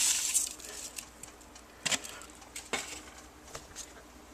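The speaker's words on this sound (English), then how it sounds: "Give it a little stir." A spoon stirs a pot of red beans and rice with bay leaves and Cajun seasoning, making sparse, light clinks and scrapes against the pot over a quiet background.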